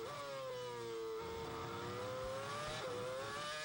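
Formula 1 car from 2007 Malaysian Grand Prix qualifying screaming along a straight, a sustained high-pitched engine wail whose pitch climbs with upshifts, loud and continuous with no talk.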